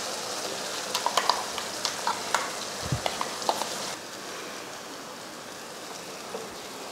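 Ground masala paste sautéing and being stirred in a pan, a steady close sizzle with a burst of quick spoon scrapes and taps before the frying settles into an even hiss.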